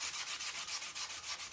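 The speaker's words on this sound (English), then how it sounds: "we're gonna do a little sanding anyway" Light hand sanding on a painted surface gives steady rhythmic back-and-forth scratching strokes, close up and alone.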